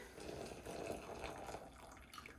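Water poured steadily into a bowl while making an English trifle, a continuous splashing stream, fairly close and unbroken for the whole stretch with no talk.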